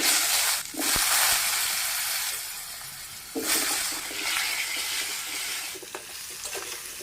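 Potato pieces frying in hot oil in a wok, a steady broadband sizzle with stirring and scraping bursts, loud and close, no talk.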